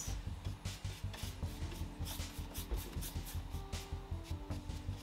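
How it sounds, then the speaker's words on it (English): Brush applying primer paint to a wooden desk, a close, rhythmic scrubbing and rubbing stroke after stroke, fairly quiet and steady throughout. "Giving it two coats of primer."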